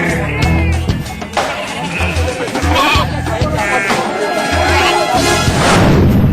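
Sheep bleating while a flock is counted at a village council gathering, loud and repeated in a noisy crowd.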